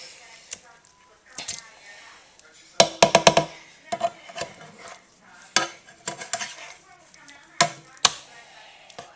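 Salmon flipped in a pan with a utensil: sharp metallic clatters and a quick cluster of clanks, then scattered scrapes and knocks at irregular intervals, all close and clear.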